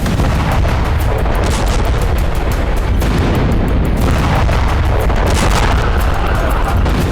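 A blast in Ramat Gan, Tel Aviv, caught on a shop's CCTV camera, sounds as loud, continuous booming and rumbling with sharp cracks, harsh and close throughout without pause.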